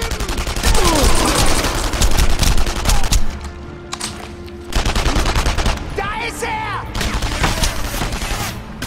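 Dense gunfire from the World War II shooter Enemy Front, with rapid machine-gun bursts and repeated volleys over several seconds, a brief lull midway, then more shooting; loud and close, with game sounds layered in.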